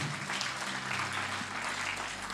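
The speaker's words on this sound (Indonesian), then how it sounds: "Tepuk tangan buat Allah kita" A church congregation at an Easter service claps in dense, even applause that fills the hall throughout, at moderate distance.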